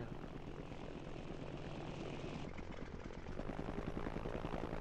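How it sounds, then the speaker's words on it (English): A helicopter flies in the Battlefield video game, its rotor and engine making a loud, continuous, dense drone that fills the whole stretch with a slight shift partway through. "Alright, so I move the helicopter up."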